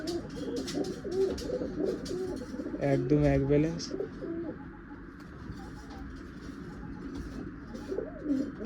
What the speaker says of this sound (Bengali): এটা হচ্ছে নোয়ার পায়রা